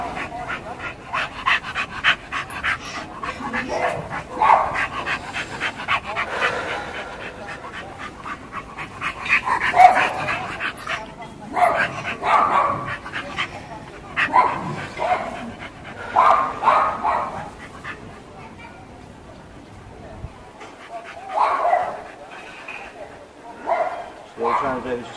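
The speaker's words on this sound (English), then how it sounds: "we've got 4 or 5 different dogs in 3 or 4 different back gardens behind us" Several dogs bark, pant and whimper in back gardens, with irregular bursts of barking and yips at moderate distance coming and going over about twenty-five seconds. A person talks intermittently over them.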